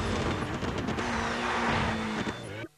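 Rally car engine revving with tire skids in Colin McRae Rally 3, a sustained loud drone with a rising engine tone that cuts off abruptly near the end, with faint talk underneath.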